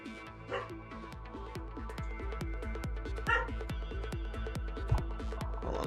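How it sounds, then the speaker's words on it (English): Repeated dog barks and woofs, fairly close and loud, over steady game background noise with rhythmic thumps, heard indoors during a Tekken 7 gaming session. "Puppy, who you woofing at?"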